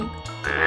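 A frog croaks in a short burst of low, throaty pulses that rise into a louder rasping call at the end, close and clear with no speech.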